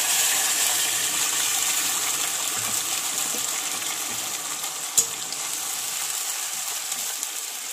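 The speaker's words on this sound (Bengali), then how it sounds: "এবার আমি এর মধ্যে আমার পেস্ট করা পুরো মশলাটাই ঢেলে দেবো।" Spice paste poured into meat in a hot pan, a steady loud frying sizzle running throughout with a brief sharp clink near the end; no talking.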